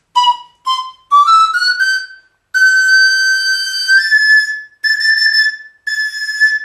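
A pan flute sounds a series of clear high-octave notes, a few short breathy tones and then longer sustained ones with pure whistle-like pitch, close and moderately loud, with no talking.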